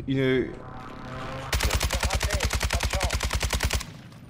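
Rapid automatic gunfire in a shooter video game, a steady burst of about two dozen sharp, loud shots lasting a couple of seconds, following a brief voice beforehand.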